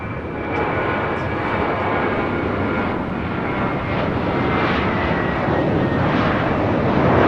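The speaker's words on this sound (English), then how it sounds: "This is the Element of Surprise taking off to Miami, Florida on an A321 with JetBlue Airways Flight" A JetBlue Airways Airbus A321 taking off from LAX for Miami, a loud broadband jet roar with a thin high whine, building slightly in strength as it goes.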